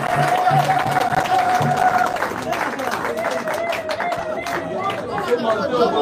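Audience applause and crowd chatter at a Union sacrée de la Nation political ceremony in the DRC, a steady dense wash of clapping with voices and a sustained tone running under it throughout.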